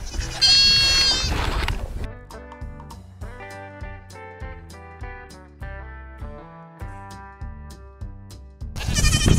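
Goats on a goat farm bleating loudly and close, a wavering bleat at the start and another at the end, with steady rhythmic music playing in between.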